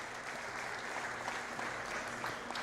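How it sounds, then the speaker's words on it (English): Steady clapping fills the space as an audience applauds at a county fair swine show. It is a continuous, even patter of hands heard from a distance at modest volume. "Let's put a round of applause together for everybody involved in making this happen."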